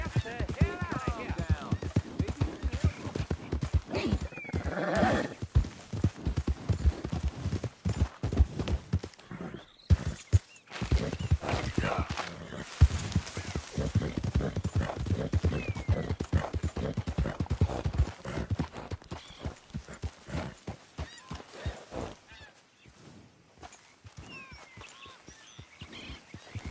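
A horse in Red Dead Redemption 2 trots with a brisk, steady clip-clop of hooves close by, broken by an occasional whinny. Voices talk over it now and then.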